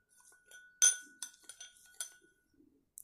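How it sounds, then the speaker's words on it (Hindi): A metal spoon taps and clinks against a glass bowl while a lemon pedicure scrub mixture is mixed; a sharp clink stands out among several lighter scattered knocks, with quiet gaps between them. "एक स्पून की हेल्प से इसको मिक्स करेंगे"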